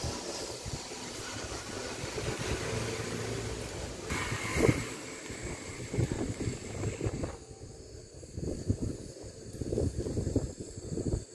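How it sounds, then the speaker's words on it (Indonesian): Strong cold wind blows outdoors in Merauke, South Papua, a broad roaring rush that gusts and buffets the microphone. A few thumps and knocks come through the blowing, and the wind eases somewhat near the end. "Anginnya kencang banget guys dan dingin."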